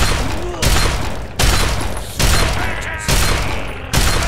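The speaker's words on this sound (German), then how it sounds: "Bin ich froh, dass in diese Schrotflinte 12 Schüsse reinpassen." A shotgun fires five loud booming blasts at an even pace in the video game Fallout 3, each blast ringing out before the next.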